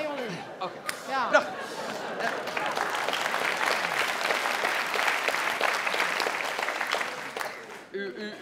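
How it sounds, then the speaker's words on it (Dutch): A theatre audience at a Dutch New Year's Eve comedy show breaks into sustained loud applause with some cheering, lasting most of the stretch before fading, with a comedian's voice heard at the edges. "U klapt daarvoor."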